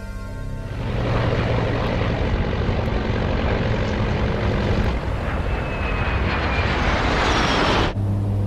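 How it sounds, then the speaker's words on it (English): A twin-turboprop Colgan Air airliner, Continental Connection Flight 3407 from Newark to Buffalo, drones steadily in flight, a loud continuous engine and propeller roar that swells in after a quiet start and cuts off abruptly near the end. "Continental Connection Flight 3407, operated by Colgan Air, is en route from Newark, New Jersey to Buffalo, New York."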